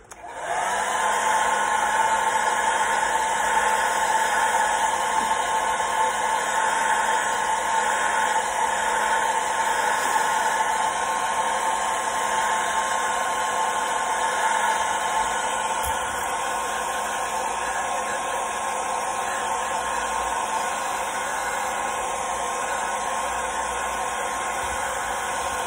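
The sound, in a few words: heat setting fingernail polish paint on a crankbait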